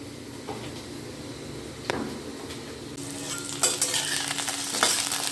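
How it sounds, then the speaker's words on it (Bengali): Lightly salted potato pieces fry in hot oil for a chicken curry, giving a steady close sizzle punctuated by sharp clinks and scrapes of a spoon stirring in the pan, the sizzle swelling louder partway through. "এখানে চিকেনের ঝোলে যে আলু দেবো তার জন্য আলুগুলোকে একটু ভেজে নিচ্ছি।"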